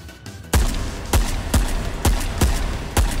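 Shotgun blasts in the VR shooter Ghosts of Tabor, firing mixed buckshot, slugs and birdshot: six loud, sharp booms spaced roughly every half second to second, each with a short ringing tail, with no talk over them.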